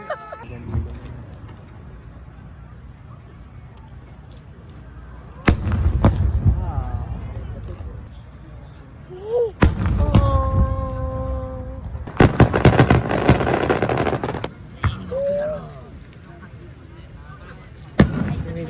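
Fireworks burst at a fireworks festival, with several sharp booms and crackling bangs spaced a few seconds apart over a low background hum, while spectators exclaim and talk between the bursts.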